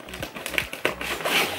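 Scissors snip and slice through tape and packaging to open a La Redoute mail-order parcel, giving a quick run of close, crisp clicks and scratchy rustles.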